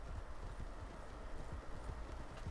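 Galloping horse hooves from Red Dead Online pound in a rapid, continuous rhythm, moderately loud under a dense bed of game noise.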